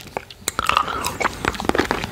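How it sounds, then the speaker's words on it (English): Sharp, irregular crunching of a jawbreaker candy being bitten and chewed up close, with brittle cracks repeating over a couple of seconds. "because outside is um, crunchy candy, and also inside is the bubblegum"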